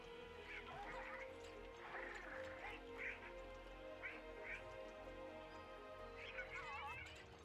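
Duck-like quacking from a bird in the Keeper video game, several short bursts spread across the stretch over steady game music and ambience.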